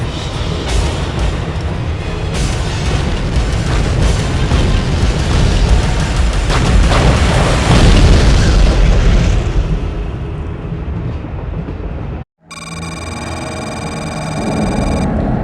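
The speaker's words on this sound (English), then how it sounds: "Obok się zaczęło bombardowanie." Bombardment explosions in a cutscene from the video game Soldier of Fortune, a loud, continuous roar of booms and rumbling blasts that fades near the end and then cuts to a different, quieter tonal sound.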